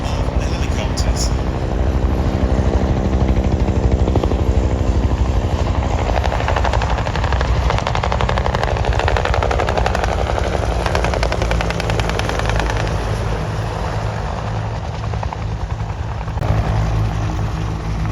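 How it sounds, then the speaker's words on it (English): A loud, sustained helicopter rotor thump and engine roar as helicopters arrive at an airshow in Leszno, Poland, steady throughout, with voices faintly underneath. "it's time for the arrival of the helicopters"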